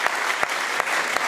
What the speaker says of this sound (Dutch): Geef ze even een fantastisch applaus voor deze fan van topniveau